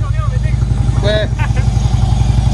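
A Harley motorcycle engine idles with a steady, rapid low-pitched pulsing throb, close and continuous, while people talk over it.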